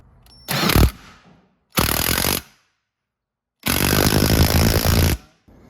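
A bolt is run through a large metal washer and tightened with a power tool in three loud close bursts, a short one, a medium one and a longer one, with silent gaps between them.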